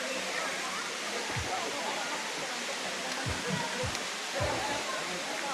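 Water rushing at Hinulugan Falls, a steady close roar with soft low thumps and faint voices underneath.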